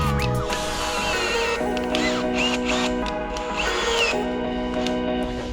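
A power drill spins a tap to thread a hole in thick metal during drift car fabrication on a C8 Corvette. It whines steadily at close range, with its pitch shifting as the tap is backed in and out.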